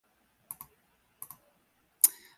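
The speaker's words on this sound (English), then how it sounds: "I'm going to click that and put it in." Computer mouse clicked at close range in three paired bursts of sharp clicks, the last louder with a short rattling tail, set against near silence.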